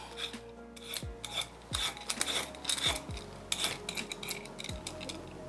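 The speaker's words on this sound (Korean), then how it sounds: "필러로 깎아주겠습니다" Repeated scraping strokes of a peeler against firm kohlrabi skin, each rasp brief and close, with small clinks in between.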